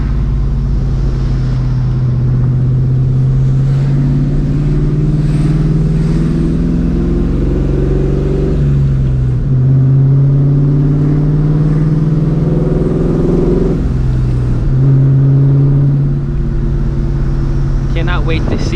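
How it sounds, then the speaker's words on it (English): Supercharged New Edge Mustang GT engine revving hard and loud up close, the pitch sweeping up and dropping several times with sharp blow-off valve whooshes between pulls. "But like this blow-off valve, man, it sounds"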